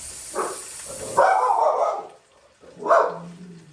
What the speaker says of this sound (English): they bark at the neighbors who just came home across the street